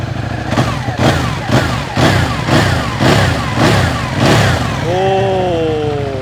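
A Ducati Panigale 899 superbike engine blipped repeatedly, about eight sharp throttle revs in a steady rhythm, close and loud, then settling into a rising whine.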